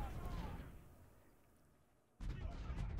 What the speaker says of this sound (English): my artillery is just blasting away at him